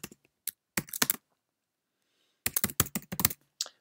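Java code being typed on a computer keyboard in quick bursts of key clicks, separated by a silent pause, close and clear with no talk.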